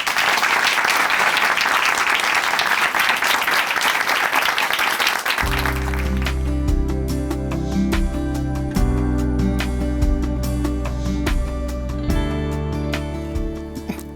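A studio audience at a Korean Christian TV program bursts into sustained, loud applause to welcome a church member to the stage, then the clapping gives way to music.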